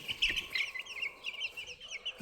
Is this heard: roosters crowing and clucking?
yes